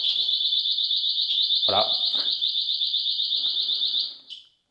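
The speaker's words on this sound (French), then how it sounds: "si quelqu'un touche au vélo, on a une alarme bien violente qui se met en marche pour dissuader les voleurs" Anti-theft alarm on a LEMMO ONE MK2 electric bike blares as a loud, continuous, piercing warble for about four seconds before cutting off, with a brief thud and someone speaking over it.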